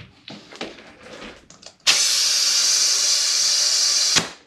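Air blasts out of the bead of a 10-inch tubeless electric scooter tire on a KOMOTO M1100, a loud steady hiss lasting about two seconds before stopping abruptly, preceded by softer handling clicks and rustles.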